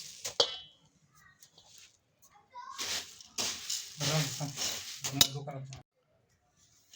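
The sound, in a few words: stirring chivda masala into chivda in a pan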